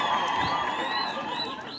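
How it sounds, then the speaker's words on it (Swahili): A crowd at an outdoor fundraising gathering cheers and whoops with scattered clapping, a brief, bright burst of many voices heard at moderate distance. "Mpigeni makofi"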